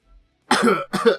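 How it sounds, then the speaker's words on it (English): Two short, harsh coughs in quick succession, close and loud, after a brief silence. "And I cough a little bit."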